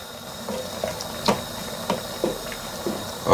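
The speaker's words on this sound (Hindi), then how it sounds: "अब मैं इसमें डाल रहा हूँ पानी" About four cups of water go into a pot of tomato soup with mixed herbs. A soft, close hiss of liquid runs under a few intermittent splashy gurgles spaced across the moment.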